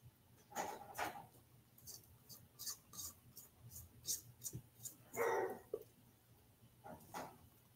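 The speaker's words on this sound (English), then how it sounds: "The dogs are barking." Several dogs barking outdoors in the wind, distant and intermittent, with a series of sharp yaps and barks spread across the stretch and one louder burst near the middle.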